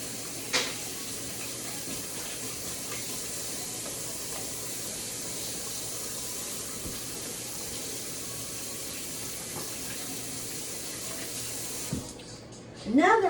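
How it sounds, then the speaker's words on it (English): A kitchen sink tap runs steadily for hands being washed, giving a continuous close hiss of water for about twelve seconds before it stops with a few clunks. "Hold on, let me wash my hands."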